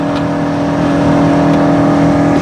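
A Honda Civic Type R FN2 with a K20 VTEC engine labours uphill on the Nordschleife in fourth gear, a loud, steady droning engine hum with a strong low tone that holds throughout.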